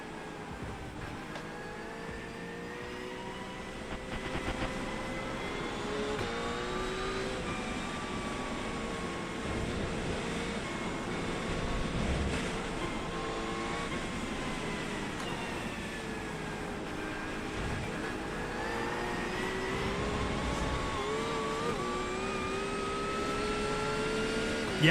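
A GT3 R race car engine runs in the iRacing game at Atlanta, a continuous droning whine that rises and falls in pitch as revs shift, steady and moderately loud for the whole stretch with no talk.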